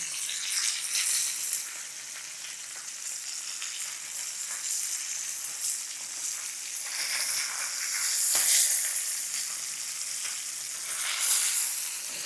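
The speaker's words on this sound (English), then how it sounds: "Being very gentle because as this fish cooks tenderly, it can fall apart easily." Yellow croaker fish fries in a pan, sizzling and crackling steadily throughout with occasional louder pops and no talking.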